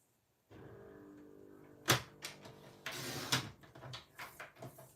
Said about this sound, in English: Let's bring in my trimmer.